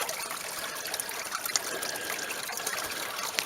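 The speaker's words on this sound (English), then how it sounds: "the other camera is across the creek, which has got a bit of water flowing through it today." Water flows through a mountain creek in a steady, close trickle and babble with no pauses and no voices.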